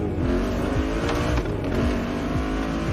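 A Toyota Supra engine in the racing game The Crew Motorfest, revving loudly and continuously, with pitch climbing and dropping through gear shifts in a steady, close drone, with no talk.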